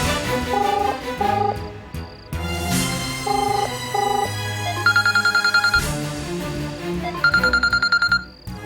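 An unanswered phone call rings out in a Malayalam TV episode, a repeating electronic ringback tune with short gaps between bursts and rapid trilling tones later, fairly loud and alone with no talking.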